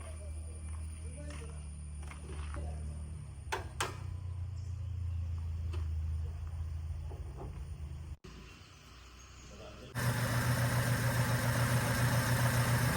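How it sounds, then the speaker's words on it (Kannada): A 25-year-old Honda City's 1.5-litre inline-four VTEC B15C engine idling with the hood open: a steady low hum under a voice, changing to a louder, denser running sound in the last few seconds. "one point five litre inline four tech engine ಇದನ್ನು ಬಿ ಫಿಫ್ಟೀನ್ ಸಿ ಇಂಜಿನ್ ಕೂಡ ಅಂತ ಹೇಳ್ತಾರೆ"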